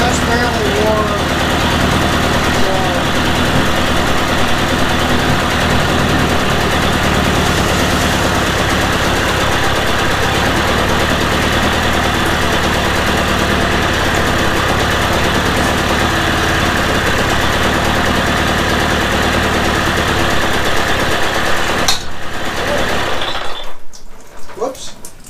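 A Mercury 350 35hp outboard motor idles steadily after a head gasket replacement. The loud, continuous engine drone runs close by and barely changes until it cuts off near the end, with speech heard over it.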